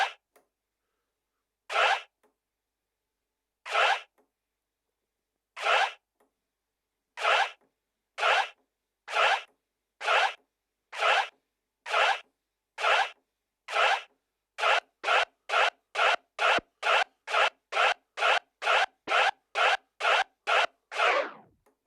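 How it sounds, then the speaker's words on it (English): A DJ does forward scratches on a turntable with the crossfader cutting each stroke, giving short, sharp, isolated zips that start sparse with pauses and then speed up into a steady, rapid run of evenly spaced cuts, with no talking. "Because we're introducing the crossfader for the forward scratch, at first this is probably going to be quite tricky to get right."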